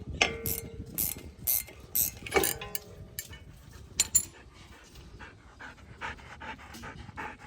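Bolt being tightened against a corroded brake rotor on a Toyota RAV4, with intermittent ratcheting clicks and metallic scraping, sharp ticks scattered among quieter rustling, fairly faint and close.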